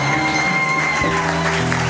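Church congregation at an annual conference in Ottawa applauding and cheering to welcome the pastor's wife, broad crowd clapping over sustained music and voices, loud and continuous.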